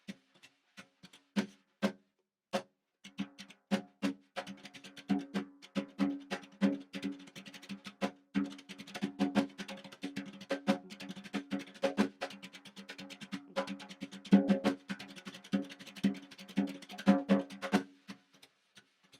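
A drummer imitates tap dancing on a drum kit, with sharp, quick taps and accents in uneven dance-like rhythms, played alone and close for nearly twenty seconds.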